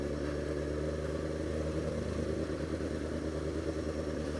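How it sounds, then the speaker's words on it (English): Motorcycle on a highway, lane splitting between cars in traffic, with a steady, continuous engine drone and road and wind rumble at close range, no speech. "I'm lane splitting to work."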